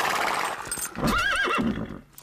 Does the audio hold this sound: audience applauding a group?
no